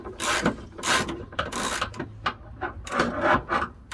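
A ratchet turns a nut on a leaf spring bolt while rear twin leaf springs go in. It gives loud, close bursts of rough clicking in repeated strokes with short pauses between, and no talking.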